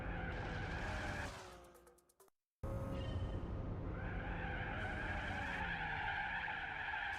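A car's tires squeal in a long skid in the Gran Turismo 4 racing game with engine drone underneath, cutting to silence briefly before the screeching slide and engine resume loudly.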